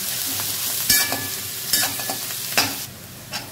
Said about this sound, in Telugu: త్వరగా వేగడానికి కాస్త సాల్ట్ వేసుకొని మంచి గోల్డ్ కలర్ వచ్చే వరకు ఫ్రై చేసుకున్నాం